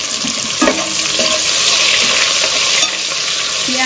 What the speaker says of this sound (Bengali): পেঁয়াজটাকে একটু লাল করে ভালো করে ভেজে নিলাম।